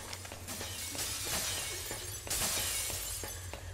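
Glass shattering sound effect in the Metal Gear Solid 4 video game, heard as two dense bursts of breaking, crackling glass over a steady noisy background.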